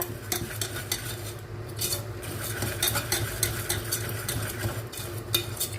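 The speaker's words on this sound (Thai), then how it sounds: "ผัดเขาสักพักนะคะ" Salmon steak stir-fries in a hot pan, a soft steady sizzle broken by repeated scraping and clinking of a utensil against the metal, close and moderately quiet, with no talking.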